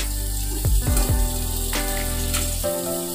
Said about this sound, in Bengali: এটা হালকাভাবে ভেজে নেব